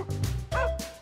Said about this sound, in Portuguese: George, ele é um cachorro de rua!